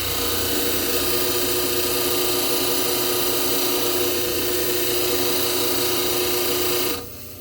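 A dental model trimmer's abrasive wheel grinds a study model, giving a loud, steady near whine and rasp that runs unbroken for about seven seconds, then drops away sharply as the motor winds down.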